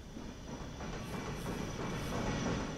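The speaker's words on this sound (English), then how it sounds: "There goes another train." A train passes at a distance, a steady low rumble of rolling wheels with faint rhythmic clatter, soft and continuous with no voices.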